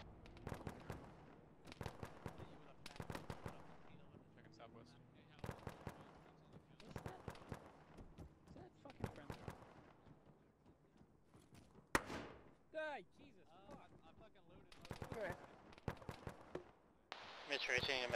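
Combat in a ShackTac squad game session: sharp gunshots crack out in short bursts and single rounds, some close and loud, others farther off, scattered across the whole stretch, with voices talking between the volleys.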